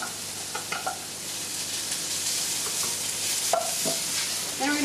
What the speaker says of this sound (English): I put my water chestnuts in. So here, sizzle.